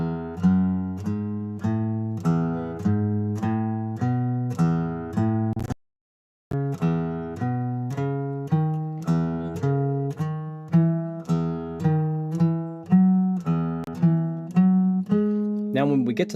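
A guitar plays a scale in even eighth notes, plucked notes stepping steadily upward with a brief gap partway through before the run continues, close and clear with no speech.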